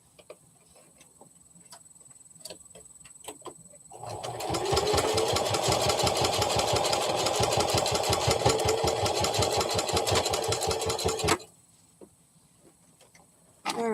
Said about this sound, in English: I'm going to run in one more stitch on this one